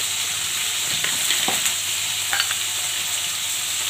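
Vegetables frying with chilli and salt in a pan over mustard seeds, giving a constant loud sizzle, with a few soft scrapes and knocks of stirring and no talk.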